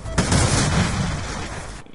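Sniper gunfire from the DSR 50 rifle in Black Ops 2, heard as a loud, dense burst that sustains for under two seconds and then cuts off abruptly.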